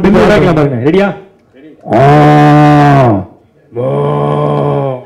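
A man imitates a buffalo bellowing with his voice on stage at a comedy event, making two loud, drawn-out bellows after some brief talk, with a short pause between them.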